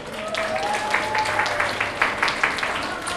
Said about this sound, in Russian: Вам аплодисменты сами себе